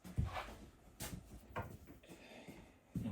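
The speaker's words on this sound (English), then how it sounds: "Got some nice drawers over here working in the kitchen." Wooden drawers in the kitchen of a 2024 Nash 18FM camper trailer sliding open and shut, several soft thumps and short slides spaced irregularly, close and fairly quiet, without talk.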